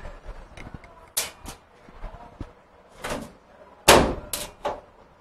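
A dryer door in a laundry room is fitted back into place, giving a series of sharp clicks, knocks and clunks spread irregularly over a few seconds, close by and moderately loud.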